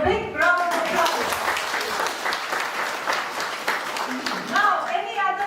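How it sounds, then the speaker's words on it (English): Audience applause for a speaker at an entrepreneurship and innovation exhibition in North East India, steady clapping filling the room, with brief talk at the start and end. "So, big round of applause."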